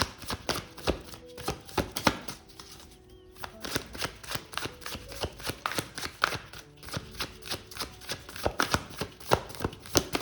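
A deck of tarot cards is shuffled by hand, producing rapid, close riffling bursts in an uneven rhythm with brief pauses between flurries.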